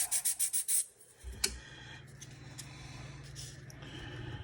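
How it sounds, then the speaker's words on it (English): Sanding off small nubs on craftsman kit parts, a brief run of rhythmic rubbing strokes at the start, a single sharp tap, then a steady low scraping rasp continuing up close. "we'll go ahead and sand off the little nubs"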